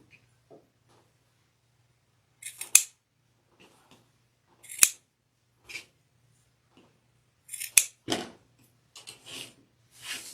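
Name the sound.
scissors cutting sunflower petals for a flower wreath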